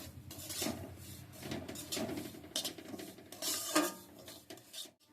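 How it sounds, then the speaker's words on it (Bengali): Semolina stirred with ghee in a pan over low heat: close, irregular scraping and clinking of a spoon against metal, soft and continuous with light taps. "এবার ঘিয়ের সঙ্গে সুজিটা খুব ভালো করে মিশিয়ে নিচ্ছি"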